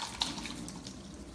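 Water pours and trickles steadily while cooked beans are drained in a kitchen sink for pasta fagioli; the sound is quiet and continuous, with a small clink near the start.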